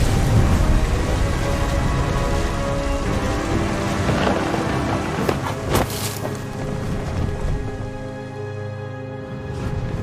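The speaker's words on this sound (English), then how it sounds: "The thunder sounded much too close and full of angry power." A thunderstorm in the video game What Remains of Edith Finch: heavy, steady rain hisses on surfaces while deep rolling thunder rumbles through, with a sharper crack about midway before the rain eases slightly.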